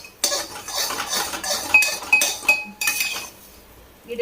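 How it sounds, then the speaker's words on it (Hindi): A metal spoon scrapes and clinks repeatedly against a pan while Sindhi-style atta halwa is stirred continuously, in irregular bursts with brief pauses between strokes. "मैंने बंद कर दी थी गैस, थोड़ा जला लेंगे और ऐसे घुमाएंगे लगातार"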